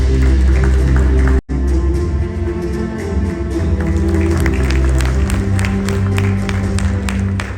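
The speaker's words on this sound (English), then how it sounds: "Big round of applause for the" Audience applause for award winners at the Build India Infrastructure Awards 2024 ceremony, loud and dense crowd clapping sustained throughout, with a brief cut near the start before it resumes steadily.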